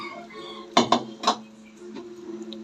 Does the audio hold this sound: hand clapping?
no